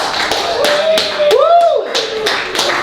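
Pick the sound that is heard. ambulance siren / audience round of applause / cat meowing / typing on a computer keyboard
audience round of applause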